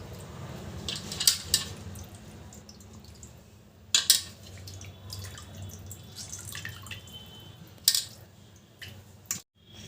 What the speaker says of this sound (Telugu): ఫ్రెష్ వాటర్తో మళ్ళీ ఒకసారి కడిగేస్తున్నాను అనమాట చికెను